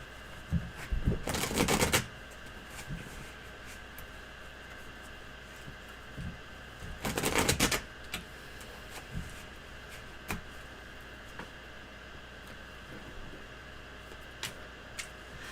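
Two bursts of tarot card shuffling, a brief riffle early and another a few seconds later, over a steady background hiss with scattered soft clicks.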